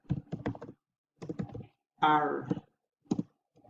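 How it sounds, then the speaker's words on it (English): Bursts of keystrokes on a computer keyboard arrive in short clusters separated by pauses as a question is typed, with a brief spoken word in the middle. "Let me type in a question here."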